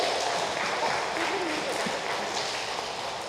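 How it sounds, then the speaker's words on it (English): A school workshop audience claps in a continuous, moderately loud burst of applause, with voices mixed in under the clapping. "Big round of applause."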